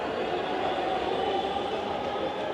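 A Dhaka metro train runs with a continuous broadband rumble and rushing noise, steady and fairly loud throughout, heard from on board or close by with no talk.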